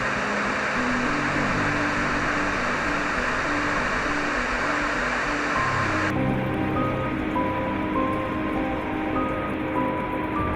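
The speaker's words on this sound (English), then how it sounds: "Surprise Inlet has yet another multi-stream waterfall" Steady, full rushing water with a broad roar of falling streams from a multi-stream waterfall in a fjord inlet, continuous and close, with a faint low tonal hum running underneath.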